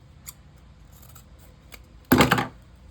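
A single crisp, close snip of scissors trimming the ends of a tail on a handmade self-care gift craft, sharp and clear after near-silence.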